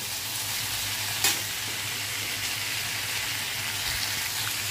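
Potatoes fry in a pan over a low flame with a steady close sizzle while a spoon gently stirs them, giving one brief scrape near the start.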